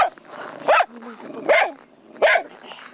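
Young Nenets reindeer-herding laika puppy on the tundra, giving four sharp, loud barks at a steady rhythm, close by, with faint background sounds between them.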